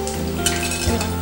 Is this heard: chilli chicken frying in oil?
yes